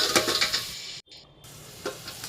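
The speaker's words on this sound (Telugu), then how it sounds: "మూత పెట్టేసి వేయించుదామండి." Chopped onions sizzle in oil in a covered pan for a chicken fry, a steady close crackle with a few stirring clatters, briefly cut off for a moment before the frying hiss returns.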